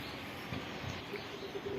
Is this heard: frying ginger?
no